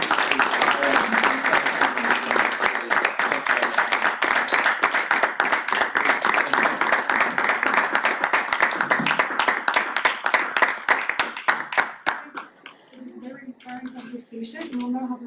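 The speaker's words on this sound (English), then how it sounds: "join me in a round of applause" Audience applause at an interactive workshop on grassroots movements during the LSE Africa Summit, a dense sustained round of clapping that fills the room for about twelve seconds, then thins to scattered claps under murmuring voices.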